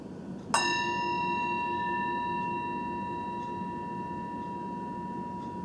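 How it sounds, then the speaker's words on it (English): A hand bell rung once more at a workshop: one bright strike, then a long shimmering ring that decays gradually against quiet room noise. "get a bell and go ring it."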